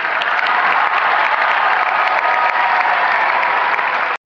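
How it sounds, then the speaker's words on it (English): A large audience at Radio City Music Hall applauds loudly and continuously for several seconds, a dense wash of clapping that cuts off abruptly at the end. "give a round of applause to Dr. Mehmet and Yusana for putting this incredible day together"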